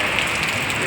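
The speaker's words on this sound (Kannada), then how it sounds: "ಗುಂಡಲಪೇಟೆಯಲ್ಲಿ ನೋಡಿ ಯಾವ ರೀತಿ ಮಳೆ ಹುಯ್ತಾ ಇದೆ" Heavy rain pours in Gundlupet, a dense, steady hiss of water falling close by with no break and no voices.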